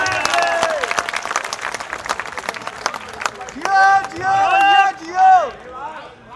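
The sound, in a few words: audience applause at a poetry gathering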